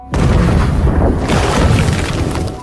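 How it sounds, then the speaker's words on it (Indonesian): A ship explodes in a loud, booming blast that roars on for a couple of seconds, dense and rumbling throughout. "tepat saat kapal itu meledak"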